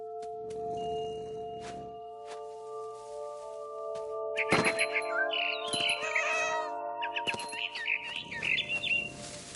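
A frightened bird in What Remains of Edith Finch gives a flurry of shrill, fluttering chirps over a sustained tonal game soundscape, with sharp clicks and soft thuds around the calls.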